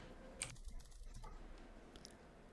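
A computer keyboard is tapped close by in a quiet room, a short run of quick clicks like repeated deleting of text, with a few louder isolated keystrokes.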